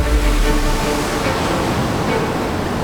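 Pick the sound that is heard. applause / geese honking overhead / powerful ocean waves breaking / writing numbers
powerful ocean waves breaking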